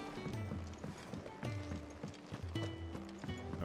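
Horse hooves clip-clop in a quick, regular gallop rhythm throughout, close and clear, in the video game Final Fantasy XVI, with music-like tonal layers in the background.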